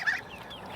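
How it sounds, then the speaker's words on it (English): Geese give a single short honk up close, a quick nasal call at the edge of a small pool, followed by quiet. "see, there are the geese."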